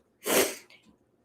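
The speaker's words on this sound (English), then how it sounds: "Sorry, I had to sneeze." A single sharp sneeze, close and sudden, followed by a short breathy exhale in an otherwise quiet space.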